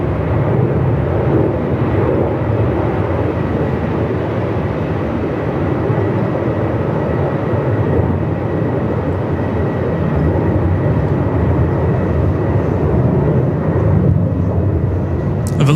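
Aircraft taking off from runway 34 at Melbourne Airport in 45-plus-knot winds, a loud, steady, broad engine roar with wind rumble that holds constant throughout.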